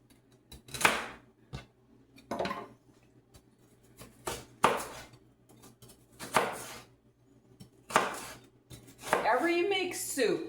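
Celery stalks being chopped with a knife on a cutting board for potato soup, a series of sharp close knife strikes landing in irregular bursts, with a faster run of chops at the end.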